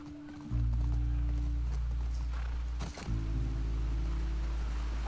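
Horse hooves clip-clop steadily at a riding pace in a video game, with a low sustained ambient drone underneath and a brief dip partway through.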